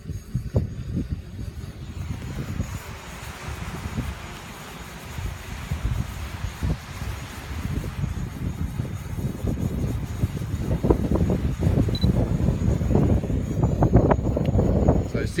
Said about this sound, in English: It's giving me all sorts of warnings about the strong wind.